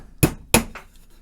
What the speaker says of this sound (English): I'm just going to drive a nail in that old hole.